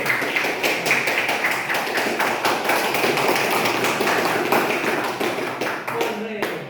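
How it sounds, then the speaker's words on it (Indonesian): Classroom applause during a student group presentation in an economics lesson: many hands clapping in a dense, steady patter lasting several seconds, fairly close, before it thins out at the end. "Kasih tepuk tangan sekali lagi."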